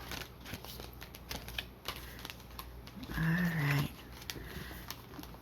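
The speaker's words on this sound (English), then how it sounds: "I'm just kind of doing the messy shuffle" Playing cards are messily shuffled by hand, a soft scattered rustle of sliding and tapping cards with one brief louder swish, quiet and close with a faint background tone.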